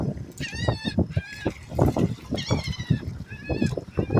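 Birds call repeatedly with bright, squawking cries that overlap and rise and fall throughout, close and fairly loud.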